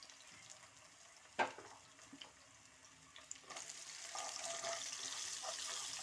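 Ginger garlic paste hits hot oil in a pan with urad dal. A soft thump comes first, then a steady hissing sizzle builds and holds, close and moderately loud, with no talk.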